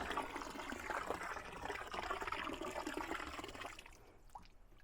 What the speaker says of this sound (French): mon pot d'eau bouillante. J'en ai ajouté 2 comme ça.